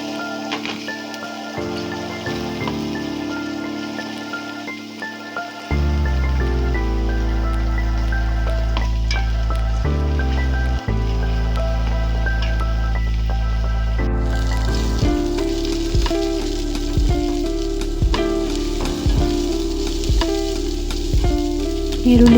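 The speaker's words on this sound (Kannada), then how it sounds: "ಈರುಳ್ಳಿಯನ್ನು ಕೂಡ ಇದರೊಟ್ಟಿಗೆ ಹಾಕಿಕೊಂಡು ಇದನ್ನು ಲೋ ಫ್ಲೇಮಲ್ಲಿ ಗ್ಯಾಸನ್ನಿಟ್ಟು ಫ್ರೈ ಮಾಡ್ಕೊತಾ ಇದ್ದೇನೆ" Onion, mustard seeds and curry leaves fry on a low gas flame for banana stem curry, a steady close sizzle with soft crackles and irregular popping ticks, growing louder partway through and continuing alone without talk.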